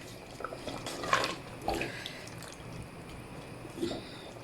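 A glass of water poured into a pot of mutton masala rice being cooked with spices, a soft splashing pour with brief bursts, fairly quiet and close.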